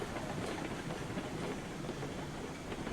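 A train rolls along the rails in the video game RailRoads Online, a steady, dense rumble with a faint clatter that continues without a break and no talking.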